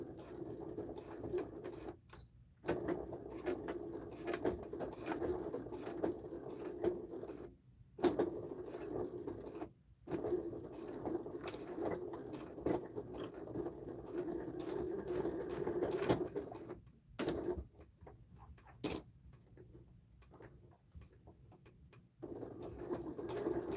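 A sewing machine stitches a Sandhill sling, its needle moved to the far right so the presser foot guides the seam. The motor whirs steadily in long runs, broken by a few short stops, close up with no talking.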